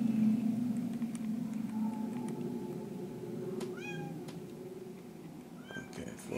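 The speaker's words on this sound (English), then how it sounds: "The cat went barreling by to jump on stuff." A pet cat meows a few times in short, rising calls partway through, over a steady low background hum and faint game sounds; no running steps stand out.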